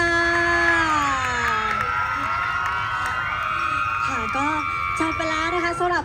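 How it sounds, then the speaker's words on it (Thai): Audience at a street cover dance contest cheers and shouts for the Seven Bees dance team, sustained high-pitched crowd screaming and whooping with some clapping, while a voice speaks over it. "ขอเสียงปรบมือให้กับเซเว่นบีสอีกรอบหนึ่งค่ะ"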